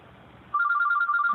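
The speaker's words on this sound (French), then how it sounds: "The ringing of the telephone" A telephone bell starts ringing abruptly after a brief near-silent moment, a loud, close trill of rapid repeated pulses that continues steadily to the end.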